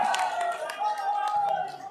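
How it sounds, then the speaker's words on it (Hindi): Rally crowd clapping in welcome, a brisk patter of hands with a few sharper claps, heard beneath someone speaking loudly over a public address system. "बहुत बहुत जोरदार तालियों से स्वागत भाई जयप्रकाश जी"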